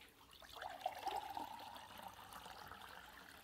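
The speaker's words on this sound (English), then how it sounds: "I'll pour it in a glass so that you guys can see." Coconut water pours in a thin stream into a glass, a soft trickle and splash for a few seconds in a quiet room.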